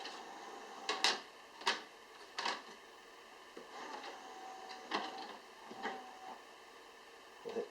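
Laserdisc player ejecting a Xanadu disc: a run of mechanical clunks, clicks and whirring motor sounds at an irregular pace, fairly quiet and close, with no one talking.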